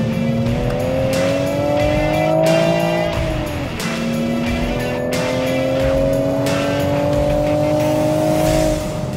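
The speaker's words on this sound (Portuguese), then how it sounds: "As rotações sobem, assim como a pulsação do nosso coração, à medida que desafiamos as leis da física em cada curva que encontramos." A Toyota Supra's engine revs loudly and close while cornering, rising in pitch, dipping briefly at a shift, then climbing again, with faint tire noise underneath.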